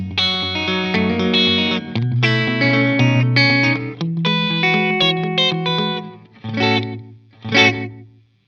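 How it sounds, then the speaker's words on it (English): Electric guitar chords run through a slapback echo and room reverb plugin on a Universal Audio Apollo, loud and sustained with distorted, chorused tone, each strummed phrase trailed by a quick repeat and roomy tail, ending in two short ringing hits. "Now we have a nice slapback echo."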